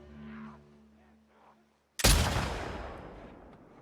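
A single loud rifle shot cracks sharply in The Last of Us Part II, booming out and decaying through a long echoing tail after a brief hush, with faint game ambience before it.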